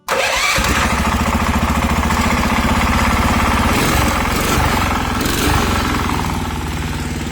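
A small go-kart engine fires up abruptly and runs at a loud, steady, rapid chugging idle close by for several seconds, with no talking.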